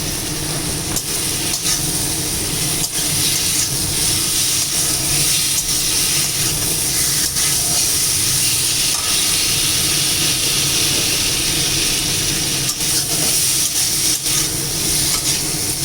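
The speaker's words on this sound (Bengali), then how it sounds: "এখন ভাজা পটল এবং আলুটা দিয়ে আর একটু কষিয়ে নেব।" Steady loud sizzling and hiss of fried potatoes and pointed gourd sautéing with spices in a hot pan, continuous throughout with occasional scraping stirs.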